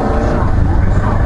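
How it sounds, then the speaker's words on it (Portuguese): A motorcycle half-skids on a city avenue near a bus terminal, a loud, dense close roar of engine and road noise that holds steady throughout. "A moto dá uma meia derrapada."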